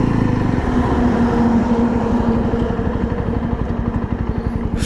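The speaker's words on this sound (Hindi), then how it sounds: "अब मैं बाइक के एक बार रोक लेता हूँ" A 2024 Yezdi Roadster motorcycle engine thumping steadily nearby, the rumble easing and slowing as the bike is brought to a stop.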